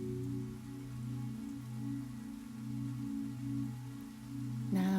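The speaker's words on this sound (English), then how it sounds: "Leave the cozy room and the sound of the rain." Rain patters steadily on a surface, a soft continuous wash of drops at moderate level, sitting beneath sustained low tonal drones with no voices.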